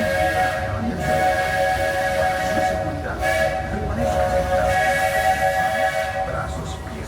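The Walt Disney World Railroad steam train rolls along with a steady hiss and rumble while its whistle sounds in repeated long tones, and a voice talks over it.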